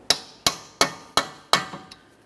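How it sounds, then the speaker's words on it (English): Five sharp metallic hammer blows on a punch driven into the center of a front left CV axle on a 2011-2020 Toyota Sienna 3.5L V6, evenly spaced and close, each ringing briefly before the next, with a fainter tap at the end. "we'll continue on with a hammer and punch directly in the center of the axle"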